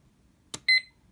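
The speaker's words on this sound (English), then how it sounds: "you hear a beep, which signals that you may record" A Snap Circuits recording IC sounds one short, bright electronic beep as the slide switch is turned on, just after a brief click, close and clear against a quiet background.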